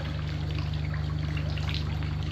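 Water trickles and drains steadily from a Fanttik Aero X robotic pool cleaner lifted out of a pool, a continuous close splashing flow over a low hum, with no talking.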